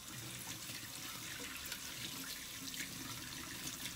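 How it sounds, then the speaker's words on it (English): Tap water runs steadily into a sink while fresh ginger root is rinsed under it, a quiet continuous splashing with faint irregular spatters, no voices. "So now you gotta wash the ginger."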